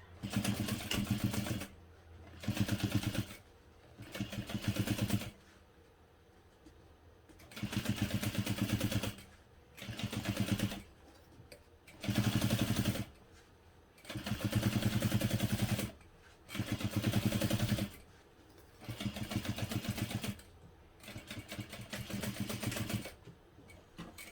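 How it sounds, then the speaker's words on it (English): Heavy fabric hobo bag being stitched on a sewing machine next to Decoville Heavy interfacing, in loud close bursts of rapid whirring, each a few seconds long, broken by short quiet pauses. "I like to sew directly next to the Decoville Heavy, but not through it."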